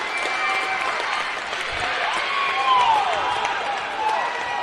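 Volleyball crowd inside the Davis Fieldhouse at a women's college championship semifinal, a steady wash of applause and cheering that swells briefly midway, with a voice faintly mixed in.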